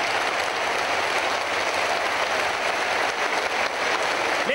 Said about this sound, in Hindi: भरपूर तालियां।